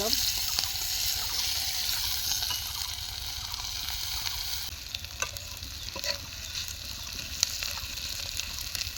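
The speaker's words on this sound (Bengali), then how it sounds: "লবঙ্গ দিয়ে একটু ফোড়ন দিয়ে নেব শুকনো লঙ্কা দেব তেজপাতা" Whole cloves, dried red chili and bay leaf sizzle and crackle in hot oil in a pan, with steady frying hiss and occasional stirring clatter throughout, close and fairly loud.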